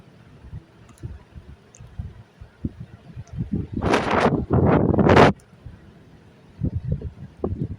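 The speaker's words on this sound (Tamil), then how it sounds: "காற்று கொஞ்சம் இங்கே ரொம்ப அடிக்குது" Strong outdoor wind buffets the microphone in a loud roaring gust of about a second and a half, with faint rustling and light clicks before and after.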